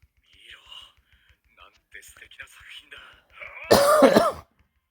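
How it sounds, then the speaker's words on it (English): A harsh, loud cough or throat-clearing bursts out near the end, after quiet whispered sounds. "I am coughing, but I don't believe I have coronavirus."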